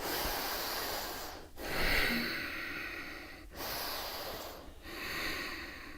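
Slow, deep breathing during a yoga session, long airy inhales and exhales heard up close, with about three breath cycles separated by short pauses.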